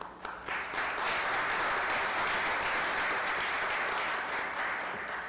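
Applause fills a city council chamber, many people clapping loudly and steadily from start to finish after a brief softer opening.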